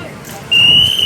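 A whistle blown as a signal during army bridge-building work outdoors, a single sustained shrill tone starting midway and holding steadily over a background of distant crowd noise.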